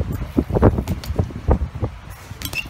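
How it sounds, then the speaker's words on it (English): Gusty wind buffets the microphone in uneven bursts at an outdoor skate park, rumbling low and loud, with some rustling, and no clear talking. "it's a bit windy out here"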